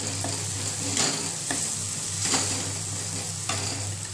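Green peas sauté with spices in a pan, a steady close sizzle broken by a few spoon scrapes at roughly regular intervals, with no talking.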